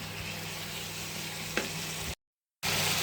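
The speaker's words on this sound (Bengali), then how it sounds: "এবার মাছটা ভালো করে কষিয়ে নেব মাথা দিয়ে নিতে হবে" A rohu fish head fries in a pan, giving a steady, close sizzle with one brief stirring scrape, then a sudden short silence before the sizzling resumes.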